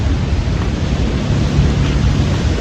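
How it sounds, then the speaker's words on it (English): Heavy rain with a deep thundery rumble, a loud, dense, continuous wash of broadband noise with strong low-end roar and no talk. "It started raining, so right now I'm heading home."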